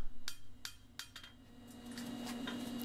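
A hammer strikes a horseshoe at the edge of an anvil during horseshoe making, giving about five sharp metallic clanks at an uneven pace, followed by a faint ringing hum and scraping at the end.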